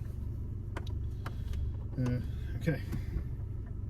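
A Nissan Micra K11 with freshly fitted spark plugs idles on a test drive, a steady low engine hum with a few clicks and short tonal noises, and a person says a brief word over it.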